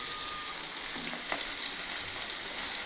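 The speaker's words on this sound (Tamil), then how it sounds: "தோசைக்கல்லில் தான் லைட்டாக எண்ணெய் ஊற்றி பொரிக்குவோம்" Fish fries in a little oil on a dosa griddle, a steady close sizzle and crackle that continues without pause and without talking.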